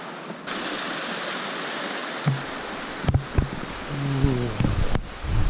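A mountain stream near Tso Rolpa in Nepal rushes with a steady, broadband hiss throughout, accompanied by a few brief knocks and a faint tonal bird-like call toward the end.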